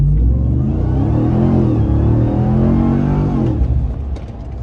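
A 2023 Ram TRX Lunar Edition pickup launches hard from a standstill, its engine roaring loud and close with a deep, sustained rumble that climbs and then eases off near the end.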